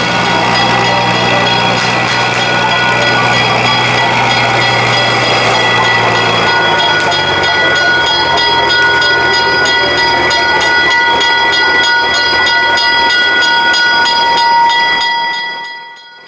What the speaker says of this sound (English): Let's take a ride on the Midwest Central Railroad as 14 and D9 arrive in the North Village with their train.